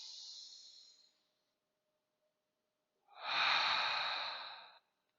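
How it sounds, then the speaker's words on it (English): A person breathes deeply during a calming tapping exercise, with a fading exhale at the start, a pause of silence, then a long, airy inhale or exhale up close. "We're going to breathe deep."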